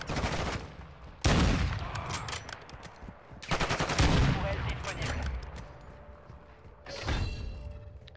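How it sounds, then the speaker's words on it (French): Loud bursts of automatic gunfire aimed at the player in a Call of Duty game, coming in several close, heavy volleys separated by short pauses. "Je me fais tirer dessus."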